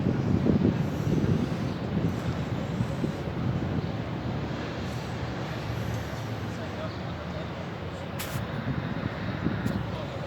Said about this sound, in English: So the next train on the bridge.